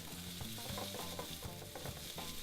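Mushrooms searing face down in a hot pan, giving a steady soft sizzle with faint clicking and scraping taps from a utensil, heard quietly with no voices.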